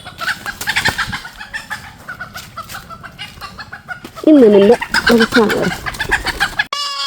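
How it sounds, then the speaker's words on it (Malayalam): Chickens cluck and squawk nearby in Lakshadweep, a loud burst midway, with someone speaking briefly over the outdoor background. "കോഴി കണ്ടോ"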